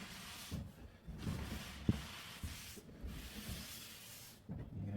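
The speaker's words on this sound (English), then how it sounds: "Just need to scrub a little bit harder, slightly more." A cloth scrubs a stain on a vinyl floor plank in short back-and-forth strokes, soft rhythmic rubbing and swishing with brief pauses between passes and one small knock, close and fairly quiet.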